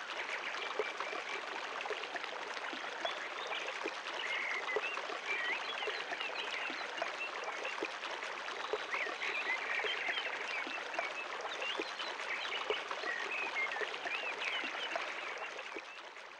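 A river flows in a steady, dense rush of water that stays constant throughout, close and fairly loud, with no voices.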